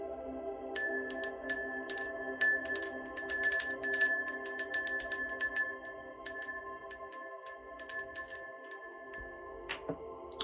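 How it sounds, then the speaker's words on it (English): A small ritual cleansing bell rung repeatedly by hand, bright metallic rings striking in quick irregular bursts and letting their tones hang and decay, loud and close, with no talking. "let's go ahead and cleanse the space with the bell"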